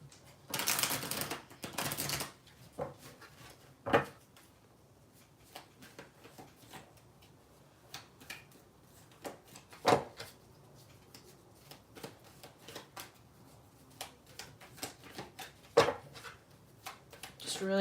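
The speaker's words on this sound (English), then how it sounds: "Just really trying to give it a good shuffle to get the energy on there." Tarot cards being shuffled in a deck, with a couple of louder riffle bursts near the start, then scattered soft card taps and flicks throughout under faint background noise.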